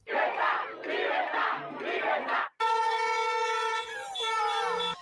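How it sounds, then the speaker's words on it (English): A crowd of Cuban protesters shouting together in loud rhythmic chant bursts, then cut off by a sustained horn-like tone with chanting still faint underneath. "Cubans in Florida also standing in solidarity with crowds gathered in parks in Tampa and Miami."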